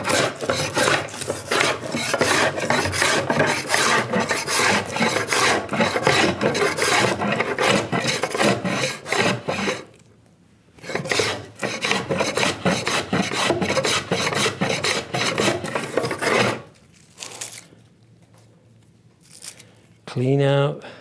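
Hand plane shaving wood while building a simple bookcase, heard as a long run of rapid rasping strokes that stop for short pauses, with a voice talking over parts of it.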